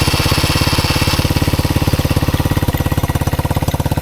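A petrol ATV engine found abandoned at the roadside runs at a rough, rapid idle, its loud chugging pulses close and steady throughout.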